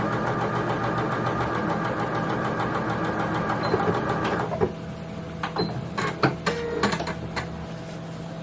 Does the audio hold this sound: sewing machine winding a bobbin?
yes